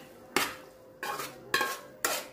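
Utensil scraping and clanking in a pan while stirring Syrian batersh, four distinct metallic strokes at a slow, even rhythm, close and clear with no talking.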